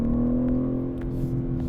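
A 2023 BMW M3 with a six-speed manual hums under way, a steady low engine drone with a firm tonal note, partly piped through the cabin speakers, heard from inside the car at an even, moderate level.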